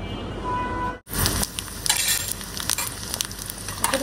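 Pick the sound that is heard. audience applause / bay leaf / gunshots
bay leaf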